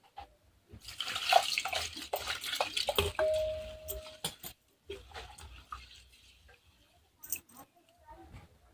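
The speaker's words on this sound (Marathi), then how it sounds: "परत अजून एक पाण्याने मी स्वच्छ धुवून घेते तांदूळ" Soaked rice rinsed again in fresh water in a pot, with irregular sloshing and swishing splashes, clinks against the vessel and brief pauses between bursts, close up and without speech.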